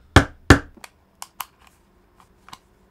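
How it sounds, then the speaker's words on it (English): A hammer strikes a cheap plastic SSD enclosure: two loud, sharp close-up blows followed by several lighter, irregular knocks and taps, with no talking. "Hammer's the way."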